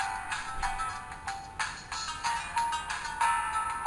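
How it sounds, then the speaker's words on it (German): A Bluboo X550 smartphone plays its startup welcome melody, a bright electronic tune of short chiming notes sounding fairly loud and alone. "eine Begrüßungsmelodie"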